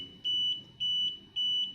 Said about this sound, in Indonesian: maka buzzer akan berbunyi